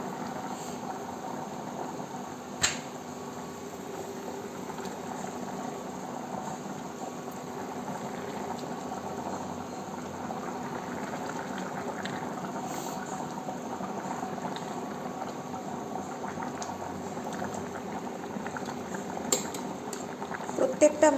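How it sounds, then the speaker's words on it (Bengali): Rithe fish curry boiling hard in a pot, a steady close bubbling churn that runs throughout with a couple of brief clinks. "দেখো মাছের ঝোলটা কিন্তু আমার খুব টকবক করে ফুটতে আরম্ভ করে দিয়েছে।"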